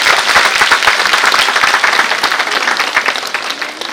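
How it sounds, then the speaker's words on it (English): An audience at a pre-school annual function bursts into loud, sustained applause, a dense wash of many hands clapping close by that fades slightly toward the end. "Please welcome them with a huge round of applause on stage"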